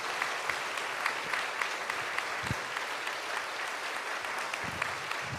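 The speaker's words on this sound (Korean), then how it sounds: "여러분, 제자들에게 큰 박수를 부탁드립니다" A church congregation at a Sunday worship service applauds newly trained disciples, steady moderate clapping from a large group throughout, with a few louder individual claps standing out.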